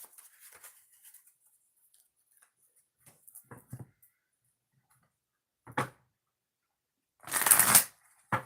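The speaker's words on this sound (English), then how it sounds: "2 shuffles before we start" Oracle cards are shuffled in a few short, sharp bursts separated by quiet, ending with a louder riffling flutter near the end.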